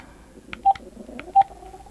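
Two short electronic beeps from phone buttons pressed while turning the volume down, spaced under a second apart, close and clear over quiet background.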